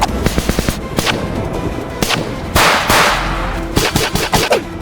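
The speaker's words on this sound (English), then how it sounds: "Max and Luna scramble for cover as gunfire fills the air." Rapid gunfire cracks in irregular bursts, some sharp single shots and some clustered volleys, loud and close with heavy echoing rumble between them.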